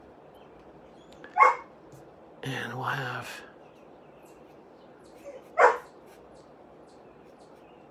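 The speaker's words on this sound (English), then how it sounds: "that dog needs to go out." A dog indoors gives two sharp barks several seconds apart, with a faint whine between them, and a person speaks briefly in between over a quiet room.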